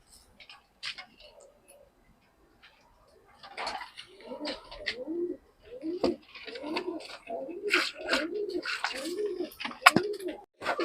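Pigeons coo repeatedly in a loft housing Nagercoil-lineage birds, soft rolling calls building from sparse sounds into a steady, close chorus over the second half.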